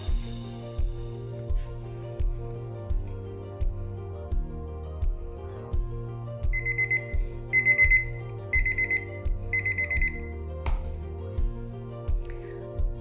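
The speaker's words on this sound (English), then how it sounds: "My timer just went off" Beeps from a kitchen timer alarm sound in short repeated bursts partway through, over a steady background of musical tones and regular soft thumps.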